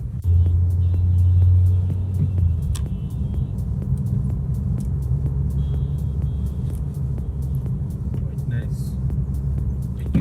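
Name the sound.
Suzuki Swift car driving through tight turns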